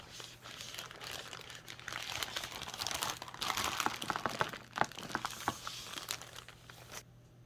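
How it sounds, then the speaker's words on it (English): Plastic wrap crinkling and tearing as it is peeled off a Hot Toys Mandalorian Deluxe figure box, a close, continuous dense rustle with sharper crackles through the middle, then stopping abruptly near the end. "taking the plastic off of a Toys box for the first time is always so satisfying"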